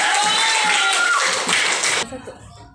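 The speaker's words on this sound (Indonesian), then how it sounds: "tepuk tangan buat Rinci." Classroom of students clapping for a classmate during an elementary science lesson, a dense burst of applause lasting about two seconds before stopping abruptly, with faint voices and murmurs trailing after.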